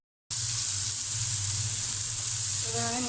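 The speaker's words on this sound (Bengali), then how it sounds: "এখন আমি ভালো করে ভেজে নেব মশলার সাথে।" Shrimp frying with spices in a pan, a steady loud sizzle running unbroken from just after the start to the end, with a faint clink of stirring near the close.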